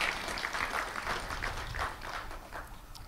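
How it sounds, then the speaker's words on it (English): Audience applause for guests who travelled from Pakistan, a steady wash of many hands clapping throughout, moderately loud and continuous with no talk over it. "Let's clap for our visitors."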